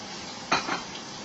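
Garlic stirred in a cooking pan, one brief scraping clatter of a utensil against the pan over a faint steady sizzle.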